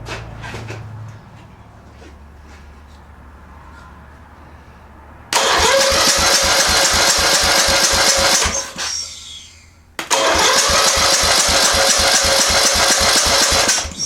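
The small engine of a hard-starting Murray lawn mower cranks over on jumper cables in two long bursts. The starter chugs loud and rapid with fast, rhythmic beats, pauses briefly between the bursts, and no one speaks.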